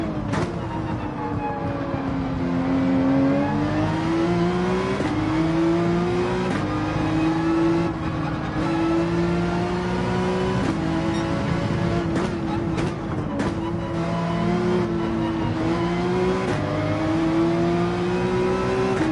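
Race car engines at Interlagos in Gran Turismo 7, a loud continuous whine rising and falling through gear shifts at over 100 mph, with short clicks and blips of downshifts, no talking.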